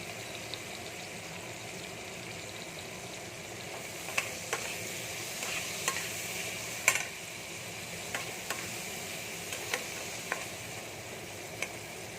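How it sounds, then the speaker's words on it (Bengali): Flat beans and eggplant frying in oil with salt and turmeric for a radish-greens dish, a quiet steady sizzle with soft scattered stirring clicks, heard alone. "এবার দিয়ে দেবো সিম আর বেগুন, দিয়ে আমি এটাকে ভালো করে ভেজে নেব।"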